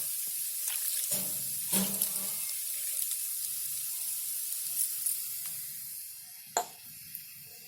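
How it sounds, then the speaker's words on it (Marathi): Cold tap water runs and splashes over cooked rice in a strainer, with a few clinks and drips, fairly quiet and without speech. "गार पाणी घ्यायचं नळाचं आणि त्याच्यावर पाणी टाकायचं असं"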